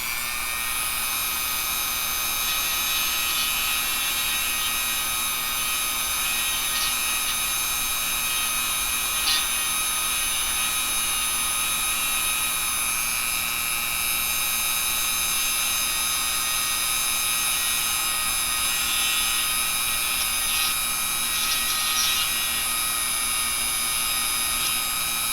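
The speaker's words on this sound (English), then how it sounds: "This is an engraving bit from the Dremels." A Dremel rotary tool fitted with a dull engraving bit grinds into a lock, giving a steady, close, high-pitched whine that holds unbroken with slight wavering.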